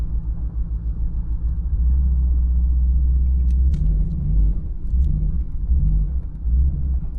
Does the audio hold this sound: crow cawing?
no